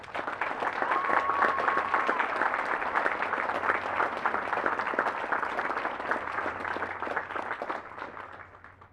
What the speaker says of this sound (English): Ladies and gentlemen, please join me in giving our awardees a round of applause.